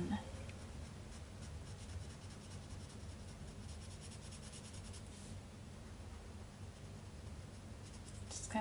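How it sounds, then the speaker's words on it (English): A blender pen rubbing over colored pencil on a stamped paper card, a steady soft scratchy scraping that continues close and even throughout with no talk. "I'm gonna take a blender pen over my color pencils here"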